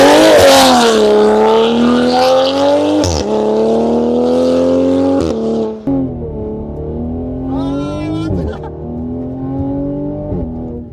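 Toyota GR Supra launching under launch control at full throttle, a loud close engine roar climbing through the revs, dropping at quick gear shifts, then easing off toward the end.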